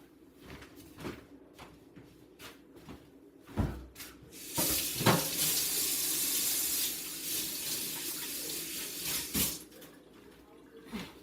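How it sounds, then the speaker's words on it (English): Water runs from a kitchen tap during hand washing amid Thanksgiving food prep, a steady close splashing flow of several seconds framed by scattered knocks and clatters. "Sorry, I had to wash my hands."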